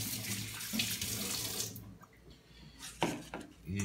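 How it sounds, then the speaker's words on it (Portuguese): Running tap water splashing as hands are washed before squeezing pineapple for juice, a close, steady flow that thins partway through, followed by a few brief splashes. "lavar as mãos de novo"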